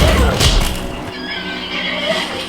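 A horse gives a loud, close neigh amid a crash and thuds as it falls, with a voice speaking over it.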